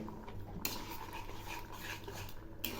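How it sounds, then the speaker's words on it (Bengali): A spoon stirring thickened milk in a pan, soft scraping and wet swishing strokes over a steady background hiss, close and fairly quiet, with no voices. "এখন এগুলি নেড়ে দিচ্ছি"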